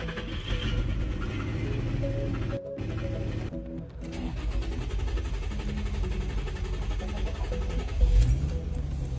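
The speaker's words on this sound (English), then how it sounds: "You turn the key, and instead of the car starting immediately, it goes before it finally now starts." A car engine cranks slowly before starting, then runs steadily with a brief cut-out partway through and keeps droning on with a louder surge near the end.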